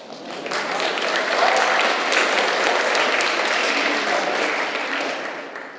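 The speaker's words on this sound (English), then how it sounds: "please clap." Steady applause from a keynote audience at a youth congress, a dense wash of clapping that swells in, holds for several seconds and tapers off, with no voice over it.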